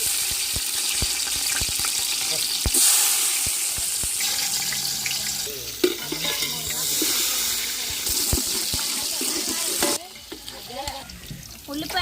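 Onions and green chillies hiss and crackle in hot oil while a spoon stirs them, a loud steady frying noise that shifts in texture, dropping in level for the last couple of seconds.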